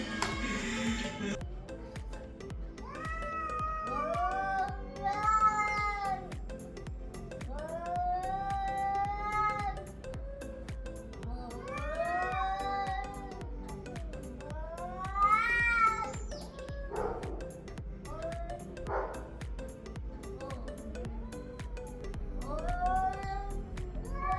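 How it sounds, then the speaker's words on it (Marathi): Cats fighting, with long wavering yowls and caterwauls repeating in drawn-out bursts over roughly twenty seconds, loud and close with little else around them. "हे जे बघू शकता तुम्ही, हे आहे कॅट फाईट्स"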